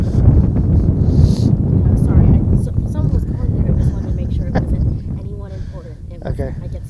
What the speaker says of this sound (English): it's very windy and a little chilly out here